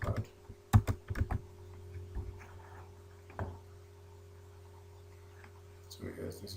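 Typing on a computer keyboard: a quick cluster of close key clicks near the start, then scattered single taps over a steady electrical hum, with a voice speaking throughout.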